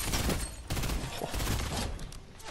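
Burst rifle gunfire in the video game Fortnite, heard as rapid, loud bursts of shots in quick succession, forming a dense crackling rattle that continues without pause across the short stretch.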